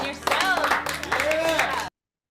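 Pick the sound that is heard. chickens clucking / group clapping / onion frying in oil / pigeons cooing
group clapping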